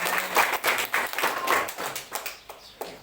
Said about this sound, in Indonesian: tepuk tangan yang terbaik buat Tuhan Yesus dulu